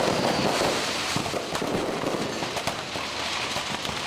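Rapid, continuous crackling bursts of fireworks exploding in a row of firecracker stores in Bocaue, Bulacan, a dense, loud barrage with no pauses.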